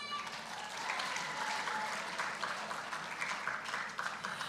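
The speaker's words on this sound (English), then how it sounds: "Let's hear a round of applause." An audience at a talent competition final breaks into sustained applause, a dense wash of many hands clapping continuously with scattered louder claps and faint cheering mixed in.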